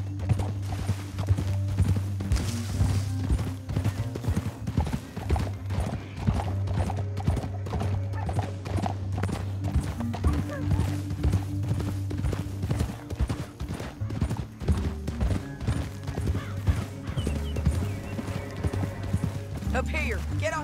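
Horses galloping in Red Dead Redemption 2, with rapid, continuous hoofbeats and a steady rhythmic clip-clop over a low hum, plus occasional whinnies, while voices talk over the riding.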